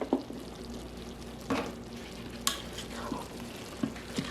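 A spoon stirs food through a pressure cooker pot right after the lid comes off, giving a few scraping, sloshing strokes over a low, steady sizzle, with no one talking.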